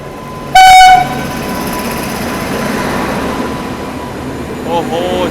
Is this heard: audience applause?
no